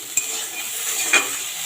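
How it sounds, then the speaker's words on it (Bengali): Salted potatoes fry in a pan with a soft, steady sizzle, broken by two light clinks of a utensil against the pan. "নুন দিয়ে আর একটু ভেজে নেব।"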